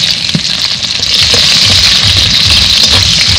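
Chopped onion sizzles steadily in hot oil with whole cumin and bay leaf, a loud close frying hiss with faint stirring clatter and no talk.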